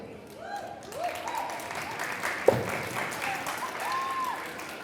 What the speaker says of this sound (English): Another round of applause for the students for their great job.